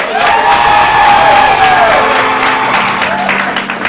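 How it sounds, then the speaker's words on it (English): Loud, steady applause from a crowd with cheering mixed in, continuing throughout. "Big round of applause for his head coach."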